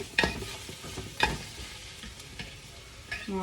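Meat and onions sautéing in a pan for a Christmas biryani, with a steady frying sizzle and several sharp metal stirring scrapes over the hiss.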